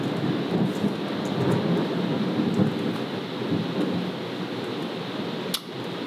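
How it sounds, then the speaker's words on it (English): Thunder from hurricane weather rumbles as a steady low roar over a rain-like hiss, with a sharp crackle near the end. "And that's thunder from the hurricane weather band waves."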